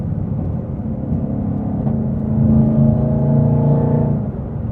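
2022 Heritage Edition Track Pack car engine heard from inside while driving, a steady low rumble that swells briefly as the car pulls harder.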